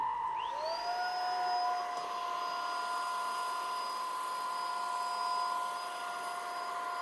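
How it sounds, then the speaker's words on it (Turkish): Umie DS-U23 cordless stick vacuum cleaner running in its first mode over spilled tea on a floor, its motor spinning up to a steady high whine and droning on, close and continuous, with no voices. "Şimdi bakın yere çay döktüm ve birinci modda çalıştırıyorum."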